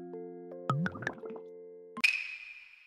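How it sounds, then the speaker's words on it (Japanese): Bubbly plopping and popping from a Minecraft brewing stand as a water breathing potion finishes, a short run of close, gurgling blips followed by a bright, fizzing burst that trails off. "ポーションができた時のコポコポっていう音"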